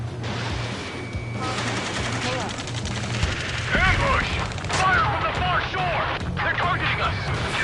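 Sustained gunfire in the aerial combat game Ace Combat 7, rapid bursts and rattling shots over a low engine drone and game effects, loud and continuous, with radio chatter mixed in.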